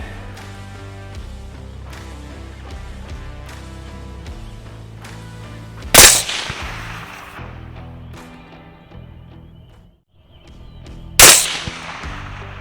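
Two sharp, loud rifle shots fired with 50 grain Hornady Superformance rounds during a thermal hunt, spaced about five seconds apart, each cracking over a quiet outdoor background with faint music underneath.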